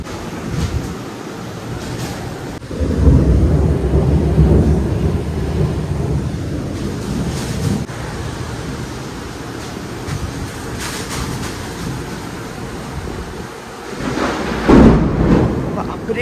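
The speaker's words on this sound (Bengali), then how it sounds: "প্রচন্ড ঝড় বৃষ্টি হচ্ছে।" Indoors during a fierce thunderstorm, wind and heavy rain roar steadily with low rumbles of thunder, while someone speaks at times over the storm.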